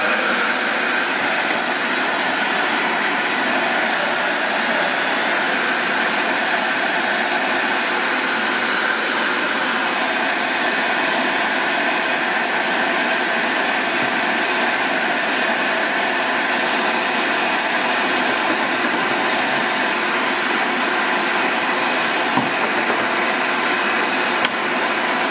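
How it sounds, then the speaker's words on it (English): A heat gun blows hot air onto PVC, giving off a steady, close, unbroken airy whoosh with a motor hum that holds the same level throughout and is heard with no talking. "You've got to have a heat gun to make this work."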